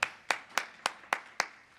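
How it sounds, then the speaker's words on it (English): Six light, evenly spaced claps ring out at a slow, steady beat from a small indoor audience, sparse and polite with nothing else around them. "That was like a golf clap"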